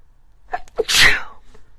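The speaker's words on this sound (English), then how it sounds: "So, I think I have to sneeze." A single loud sneeze, a quick intake of breath followed by a sharp explosive burst, close and alone.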